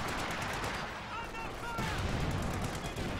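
Gunfire and a rifle grenade blast in a World War II strategy video game, a dense, continuous rattle of shots and explosions that fills the mix.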